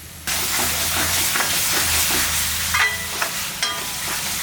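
Fish pollichathu masala, banana-leaf-wrapped karimeen, simmering in a covered pan: a steady close sizzle and hiss with small crackles and a few clinks near the end, no talk.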